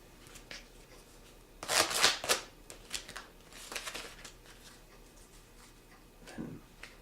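A deck of playing cards is fanned and squared at speed in one hand, giving quick rustling riffles and snaps in bursts, loudest near the middle and then trailing into a few softer shuffles.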